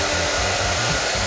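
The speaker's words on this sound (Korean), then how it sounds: "이렇게 고데기처럼 이렇게 머리를 당겨서 드라이를 해주시면 되고요" Hair dryer blowing on a man's hair as it is pulled straight, a loud continuous airy whoosh with a steady motor hum and no voices.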